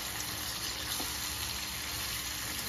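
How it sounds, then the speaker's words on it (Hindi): Chicken frying in a pan over a high flame, a steady, even sizzle with a broad hissing wash that holds at a constant low level throughout, with no talking. "फ्लेम को हाई रखी हूँ और एक मिनट के लिए इसे अच्छे तरीके से भून रही हूँ।"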